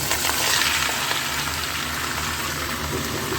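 White cumin seeds tempering in hot oil for a mixed vegetable dish, a steady dense crackling sizzle like light rain, close and even from start to finish with no talking.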